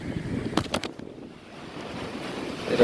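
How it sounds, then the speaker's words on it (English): Strong wind buffets the microphone at a sandy beach, with a rough steady rush and surf-like noise and a few sharp gusty thumps early on. "The wind is blowing a little too hard for my taste"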